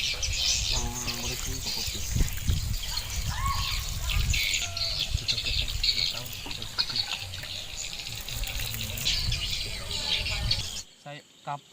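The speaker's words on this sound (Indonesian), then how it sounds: "kita siram dengan air" Water is poured onto the soil around a newly planted mango tree, a splashing trickle that runs steadily under birdsong and insect chatter before cutting off near the end.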